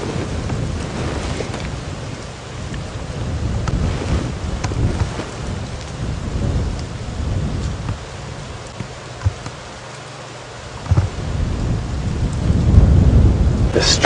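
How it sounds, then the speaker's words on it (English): Strong wind gusts roar across an open safari vehicle in the bush, a loud broadband rumble buffeting the microphone and surging toward the end. "Oh, the strong winds just started."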